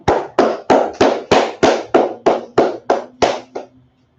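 A small church class claps in unison: about a dozen sharp, evenly spaced claps in slow rhythm, close and loud, ending in quiet.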